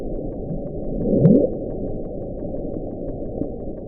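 Mysterious underwater noise captured by NOAA hydrophones in 1997: a low, rumbling, band-limited drone with a brief rising sweep near the start that quickly fades back into a steady murmur.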